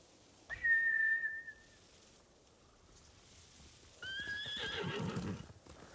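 Horses in the video game Ghost of Tsushima neigh twice, a clear whinny near the start and a second longer whinny with rustling movement later, over a quiet background.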